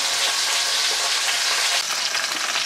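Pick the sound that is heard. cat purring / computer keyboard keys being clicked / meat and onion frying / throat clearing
meat and onion frying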